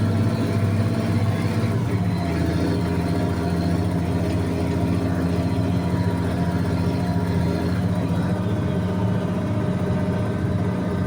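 A tractor engine labours under load while pulling a chisel plow through a field, a steady, heavy low rumble with a continuous drone and slight throttle surges, loud and close throughout, no voices.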